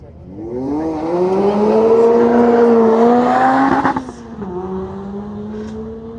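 Supercharged Lotus Elise at a hillclimb, the engine rising loudly through the revs, then a quick gear change and a drop before it pulls on again at a steady, slightly fading note.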